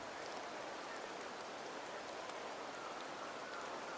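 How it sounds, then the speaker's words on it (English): Steady rain falls in Septimont in Wuthering Waves, a continuous even hiss of drops without pauses, fairly soft and uniform throughout. "The rains in Septimont never seem eager to leave this season."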